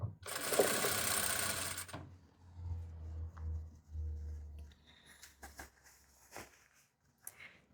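A sewing machine runs a fast burst of stitching through pinned fabric for about two seconds and then stops, leaving a low motor hum and scattered small clicks and handling noises close by.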